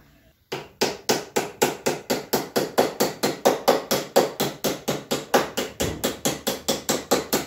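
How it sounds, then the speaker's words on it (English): A hammer strikes metal fuel tank side pieces for a Hummel Ultracruiser clamped against a straight edge, in a loud, close, evenly paced series of about thirty ringing blows with no speech. "hammer these side pieces up"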